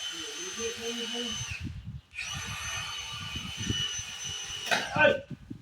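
A high-pitched electric drill whines in two bursts, briefly pausing between them, with people talking over it and a clatter near the end, as a small drill bit breaks.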